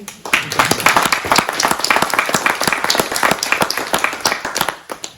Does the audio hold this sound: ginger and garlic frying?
no